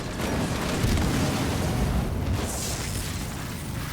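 A bomb explodes in the real-time strategy game Halo Wars 2, a deep rumbling boom that swells and sustains for several seconds, loud and close.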